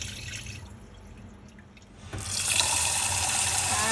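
Tap water running into a bowl to wash sticky rice, quiet trickling at first, then a louder steady rush of flowing water, close and alone.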